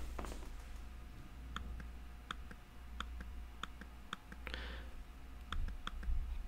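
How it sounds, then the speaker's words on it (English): An Apple Magic Trackpad 2 with silent clicking turned off gives a series of small, sharp clicks at an irregular pace, close up and fairly quiet over a low steady hum, with no talking. "if you unclick silent clicking and I click, it does make a small clicking noise"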